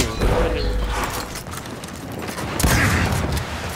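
Video game gunfire: rapid bursts of shots and booms fill the scene continuously, loud and dense, with a few voices faintly underneath.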